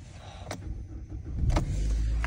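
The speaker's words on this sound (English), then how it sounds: "Just go and start it up here for you." A 2016 Chevrolet Cruze with 112,000 km: two sharp clicks inside the cabin, then the engine cranks and catches into a low, steady idle hum close by.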